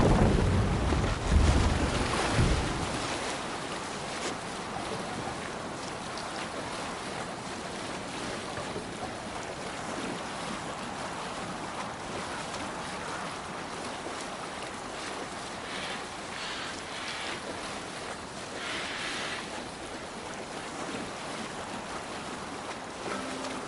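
A Viking longship sails through waves in Assassin's Creed Valhalla, with a constant rush of water and wind heard up close and fairly loud. A louder splash comes at the start, and no voices are heard.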